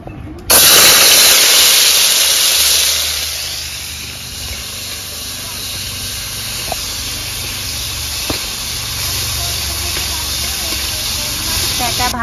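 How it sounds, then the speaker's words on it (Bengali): Batter for fritters drops into hot oil with a sudden loud hiss that settles into a steady, close sizzle, while a person talks over the frying. "আর তেলে পেটাটাও দিয়ে দেব।"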